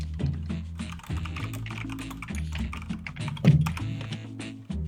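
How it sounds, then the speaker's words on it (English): Rapid computer keyboard typing clatters continuously over a voice call, dense clicks and thumps up close with a steady low hum beneath. "we can hear your keyboard, you're just not saying anything"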